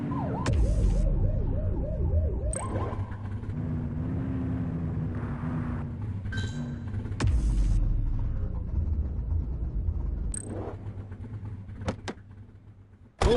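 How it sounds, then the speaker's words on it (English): Police car siren in the police patrol game The Precinct, wailing and yelping in rising and falling sweeps over a steady engine drone, broken by electronic beeps and short interface tones. "Get on their tail and flip the siren."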